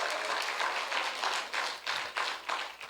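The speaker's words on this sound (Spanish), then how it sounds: "Alguien que pueda aplaudir a Cristo." Church congregation applauding in praise of Christ, dense clapping throughout with rhythmic surges in near-unison bursts, fairly close and loud.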